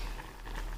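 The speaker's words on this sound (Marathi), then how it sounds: "आता छान त्याला उकळी येत आहे" Rice cooked with sugar boiling in a pot, a brief soft bubbling patter, steady and close, no voices.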